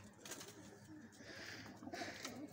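Pigeons at a breeder setup coo softly and faintly, low throaty calls repeating over a quiet, dusty background with light rustling.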